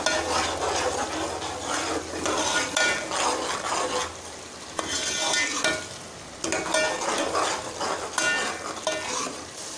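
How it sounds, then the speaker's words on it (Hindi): Whole spices such as cinnamon, cloves and black cumin sautéing in hot oil in a pan, a steady loud sizzle with scraping stirs, no talking. "मसालों को हम इस तरीके से भूनेंगे।"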